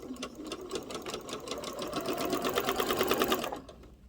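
A sewing machine stitches a rolled hem on a flowing dress fabric, a steady, close, continuous mechanical whir with a rapid needle rhythm that runs for about three and a half seconds before stopping abruptly.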